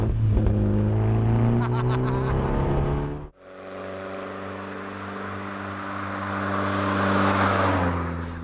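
Engine of a prototype kit car with a stainless steel monocoque, running with a steady harmonic drone that drops in pitch with a brief dip near the middle, then holds a strong, loud note continuously to the end.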